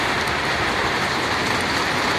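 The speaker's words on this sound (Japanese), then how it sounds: "ちょっと雨うるさいからね、えらい降ってきてますわ" Heavy rain pours down in a dense, even hiss that stays loud and unbroken from start to finish, with no voices over it.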